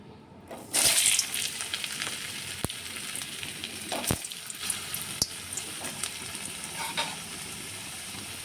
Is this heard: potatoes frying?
yes